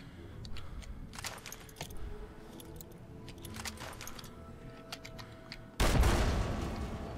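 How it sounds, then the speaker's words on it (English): Grenade blast in a modded Fallout 3 playthrough: a sudden loud, broad boom near the end, following scattered clicks and clatter over steady game background noise. "Maybe if I throw a grenade, without, hopefully I can throw it close enough to damage my legs"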